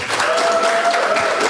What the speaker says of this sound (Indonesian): Tepuk tangan buat Muhammadiyah.